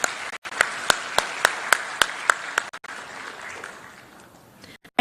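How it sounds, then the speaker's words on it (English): An audience at an international arbitration conference applauds in welcome of the Chief Minister, with sharp, evenly spaced claps at first, then a softer, thinning wash of clapping that fades out. "Please welcome with a round of applause."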